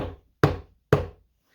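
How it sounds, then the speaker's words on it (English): Wolf bangs on a sturdy front door: two heavy, resonant knocks about half a second apart, close and loud, with short decaying thuds and no voices. "The wolf, who was very hungry by now, banged on the sturdy front door."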